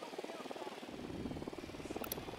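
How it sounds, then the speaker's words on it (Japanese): Drone flying in the Ghost Recon video game, a steady buzzing rotor whir at moderate level that continues throughout with a brief higher whine near the end. "ドローン飛行中。"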